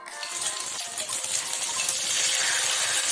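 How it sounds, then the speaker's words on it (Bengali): Beaten egg poured into hot mustard oil in a pan, giving a continuous bright sizzle and crackle that grows slightly louder toward the end, close and steady with no talking. "এরপর ফেটানো ডিমটা দিয়ে দিচ্ছি।"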